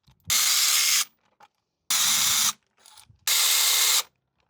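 A ratchet with a 10mm socket on an extension loosens grille bolts on a 2025 Ford F-150: three separate bursts of rapid, loud clicking, each under a second, with short quiet gaps and faint handling noises between them.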